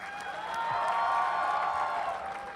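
Audience applause and cheering welcoming comedian Papa CJ on stage at a Jaipur literature festival book launch, a dense steady wash of clapping that swells and holds for a few seconds without speech.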